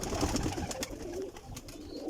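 Paired pigeons coo in low, rolling murmurs, the soft throaty calls overlapping steadily and close, with a few brief flutters or clicks mixed in.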